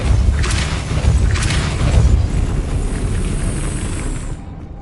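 Depulso force spell cast in Hogwarts Legacy, a loud booming blast with crashing, rumbling debris that rolls on for several seconds before cutting off abruptly.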